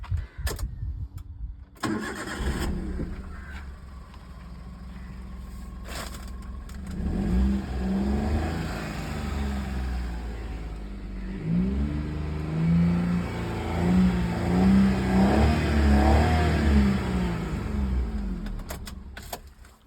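A Maruti Alto 800 small car engine cranks and catches, then runs with rising and falling revs, the mid-pitched engine note growing louder and fluctuating through repeated throttle blips, close by with no talking.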